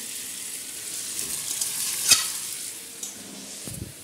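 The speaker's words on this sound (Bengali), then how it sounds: "মাংস কষানো চলছে" Mutton is stir-fried into kosha in a pan, sizzling quietly at a steady level, with one sharp metallic clink from the spoon midway and a few softer stirring knocks.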